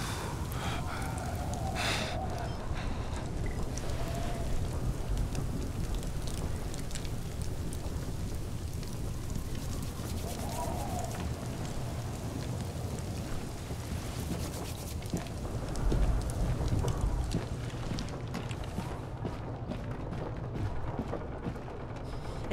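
Heavy storm rain hisses steadily in the Beyond: Two Souls video game, with low rumbling thunder and a deeper boom rolling in partway through, no voices.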